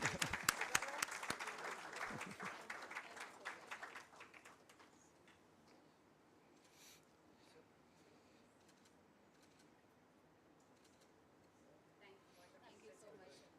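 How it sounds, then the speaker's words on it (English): Audience applause at a Women's Day special event for an interior design chapter in Hyderabad, loud clapping for the first four seconds, then fading quickly into a quiet room murmur. "A round of applause for Meghna"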